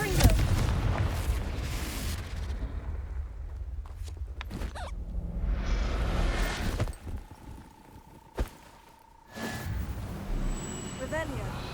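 A Confringo blasting spell explodes in Hogwarts Legacy, a broad rumbling burst at the start that fades into low rumble, with game ambience and later a brief sharp crack and a sustained tone.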